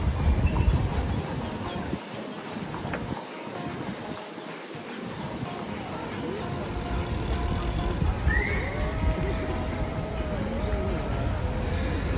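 A horse on a street in Salzburg, Austria, whinnying clearly over continuous outdoor city noise, with faint hoof clatter and traffic rumble in the background.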